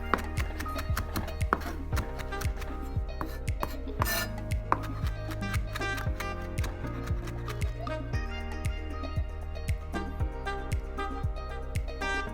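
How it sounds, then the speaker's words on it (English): A knife roughly chopping plucked parsley leaves on a board, with steady, regular close taps running throughout, alone without any talking. "Just gonna pluck out the leaves and then we're gonna give it a rough chop."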